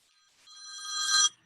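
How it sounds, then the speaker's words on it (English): A telephone rings once during an online webinar, a short electronic trill that swells over about a second and cuts off abruptly, fairly clear against a quiet background. "Excuse me, my grandson keeps calling me on the phone."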